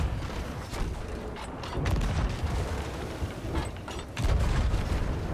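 Explosions boom during a Sea of Thieves ship battle against a Skelly Galley: several deep, loud, rumbling blasts rise and fade over a continuous roar, with the heaviest impact near the end.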